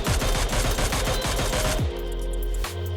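Rapid automatic gunfire in a video game training mode, a fast steady burst of close, loud shots that stops abruptly, followed by a lingering mechanical ring and hum.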